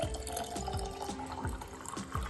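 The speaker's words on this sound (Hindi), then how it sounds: "अब इसका जो बचा हुआ हिस्सा है वो भी पानी से भर देंगे" Water pours into a jar of kanji, the fermented Indian drink, topping it up to the brim; a steady liquid splash with rising fill tones runs through, fairly close, with no talking.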